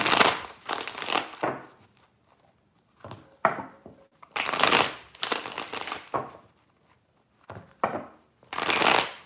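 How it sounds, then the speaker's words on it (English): Tarot cards are riffled and shuffled in three separate bursts of crisp, close papery flutter, with short pauses between them. "Three shuffles for Sagittarius."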